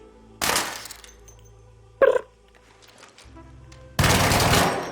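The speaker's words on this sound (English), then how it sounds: "I think the rate of fire on the Arpeggio is faster than the Bobcat." The Arpeggio gun in Arc Raiders fires in quick bursts: a dense rattling volley, a short sharp single burst, then another loud sustained volley, each separated by quieter background hum.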